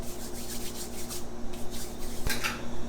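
Dried oregano is rubbed between fingertips over raw Italian meatball mix, giving a soft, continuous dry rustling and crumbling sound up close, steady and unbroken.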